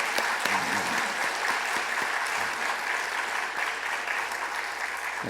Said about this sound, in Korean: 다시 한번 힘차게 박수를